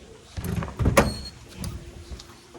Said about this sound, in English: let me open the door here